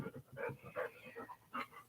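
A small dog whimpering and yipping softly in a series of short, high, pleading whines, faint and close by, with no speech.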